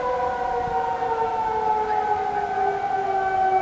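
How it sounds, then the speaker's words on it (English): Civil defense sirens sound during a tornado warning in Lincoln, Nebraska, a steady wailing tone held throughout at moderate distance, slowly drifting in pitch, with no one talking over it. "Sirens are going off... turning off."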